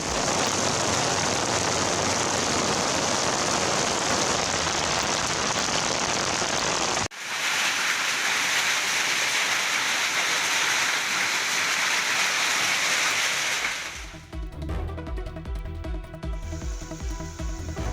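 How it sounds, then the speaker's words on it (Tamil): Heavy rain with hail pours down in the Kodaikanal hills, a dense, loud, steady hiss of downpour that changes character partway through and ends in a choppier, rougher wash of falling water. "கொடைக்கானலில் பல்வேறு பகுதிகளில் கனமழை கொட்டி தீர்த்தது."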